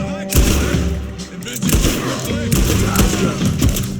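Gunfire in Red Dead Redemption 2 cracks out in a rapid series of sharp, loud shots and booming reports with echoing thuds, continuing throughout as a sustained firefight.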